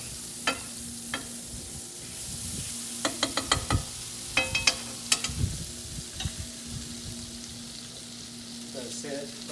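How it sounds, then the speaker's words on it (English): Butter substitute melts and sizzles in a pan, smeared around with a fork before ground beef goes in; a steady close frying hiss with scattered sharp clicks and scrapes of metal against the pan, no talking. "let it melt in the pan"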